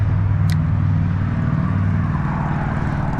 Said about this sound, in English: it's awful noisy. All these cars and everything.